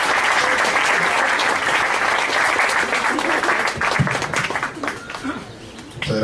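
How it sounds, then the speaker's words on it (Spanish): Audience at a lecture series on International Mother Language Day giving a warm round of applause to welcome a speaker, loud and dense at first, then thinning out as a voice begins to speak. "para quien pido un fuerte, caluroso aplauso"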